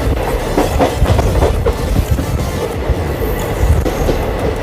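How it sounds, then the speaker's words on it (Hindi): Train rolling alongside and overtaking the Triveni Express on an Indian railway line, a loud, steady close rumble with rhythmic clickety-clack of wheels over rail joints throughout, no voices. "अभी हम लोग ओवरटेक कर रहे हैं त्रिवेणी एक्सप्रेस को।"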